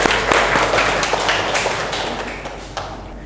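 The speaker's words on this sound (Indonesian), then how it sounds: "beri tepuk tangan" Scattered hand clapping from a small classroom group, a few uneven claps and taps fading over a few seconds with no one speaking.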